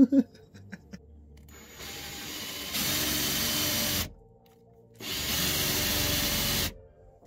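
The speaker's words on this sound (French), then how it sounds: "c'est le moment de faire des trous dedans" A power drill bores holes into a car's front spoiler, running in two sustained bursts of a couple of seconds each with a short pause between. It sounds close and fairly loud, with no talk.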